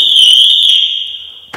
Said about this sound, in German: wenn ich jetzt hier eine Tür öffne, haben wir sofort den Alarm